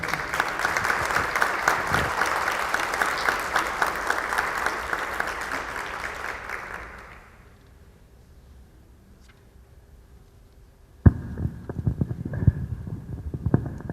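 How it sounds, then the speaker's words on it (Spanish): Strong audience applause welcoming a lecturer at a talk on Francisco Orozco y Jiménez: a dense, sustained crowd clapping that fades out over several seconds, then a brief silence before a voice begins to speak. "La recibimos con un fuerte aplauso."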